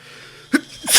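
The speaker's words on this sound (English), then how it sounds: "I'm going to sneeze." A single close sneeze from a man during a live-streamed Pokemon Gameboy play session bursts out sharply, with a short intake before it and a breathy gust at the end over faint background noise.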